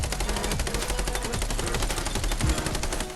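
Rapid automatic gunfire in the Indian battle royale game Scarfall 2.0, a dense, sustained burst of shots at steady rhythm, loud and continuous throughout.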